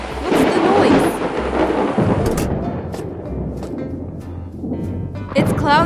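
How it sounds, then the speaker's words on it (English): Loud thunder rolls and rumbles over steady rain in a storm, booming near the start and fading into a long low grumble, with a brief higher cartoonish sound near the end. "Thunder and lightning ahead!"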